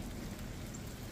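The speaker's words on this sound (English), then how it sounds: "yeah, it's raining out." Rain falls outdoors on a foggy, humid evening near trees, a steady dense hiss of drops hitting surfaces with no other sounds.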